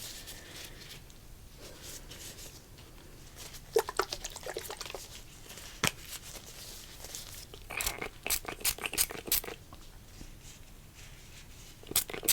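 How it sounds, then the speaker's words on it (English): Water is applied to moisten hair, giving soft close wet squishes, faint drips and crackly taps in quiet, intermittent bursts. "Moisten the hair."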